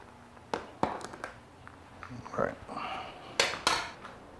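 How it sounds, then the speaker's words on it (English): Chamomile tea and other ingredients stirred into a homebrew kettle of Belgian witbier wort, heard as several sharp metallic clanks and scrapes of a spoon against the pot with a quieter swishing between, fairly close and alone. "I'm gonna go ahead and stir this in."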